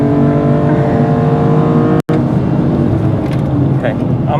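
A BMW E46 M3 engine drones loudly and steadily close by, with a brief sharp cut-out midway before the rich engine note resumes.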